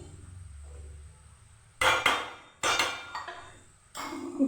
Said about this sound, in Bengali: তাওয়ার উপরে ভাতের হাঁড়িটা বসিয়ে দিচ্ছি।